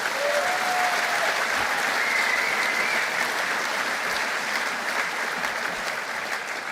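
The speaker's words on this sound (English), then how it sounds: "give him one more round of applause." A large outdoor crowd at a Calgary Stampede political rally applauds a speaker with steady, dense clapping and some cheering that holds at an even level for several seconds, then eases slightly near the end.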